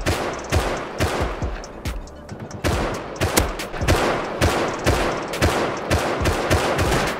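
Rapid bursts of gunfire from the video game Rust crack out loud and close in repeated volleys, sharp shots coming in quick rhythmic clusters throughout with no pause.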